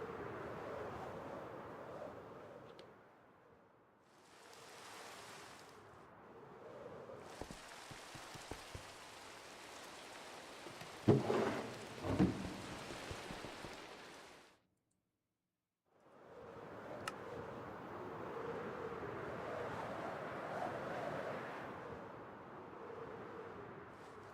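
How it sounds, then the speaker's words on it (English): Steady rain in the game Minecraft patters and hisses, shifting in intensity and dropping out briefly a couple of times before resuming, with no voices. "I wish it wasn't raining. It just rains so much on this game."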